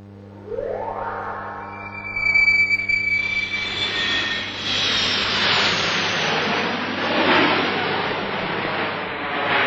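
Jet aircraft noise builds from a rising whine into a loud, broad roar that swells and holds for several seconds, like a turbojet airliner passing close overhead, with no talk.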